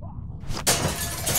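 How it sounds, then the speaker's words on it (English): Window glass shattered by a swung bat in The Walking Dead game: a low rumbling lead-in, then a sudden bright crash at about two-thirds of a second, with the broken glass crackling on loudly through to the end. "Use the bat to shatter that window so you can reach in"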